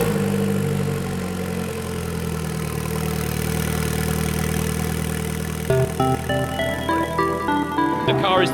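A modified dry-sump racing car engine runs steadily with a low mechanical drone, then rises into uneven revving bursts toward the end.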